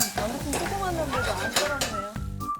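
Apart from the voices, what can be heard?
shrimp and vegetables stir-frying in a pan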